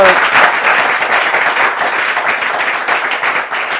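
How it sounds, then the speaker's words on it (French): A church audience applauds loudly for a pastor, dense sustained clapping from many hands filling the whole stretch at a steady, close level with no talk above it. "On va applaudir très fort pour son analyse."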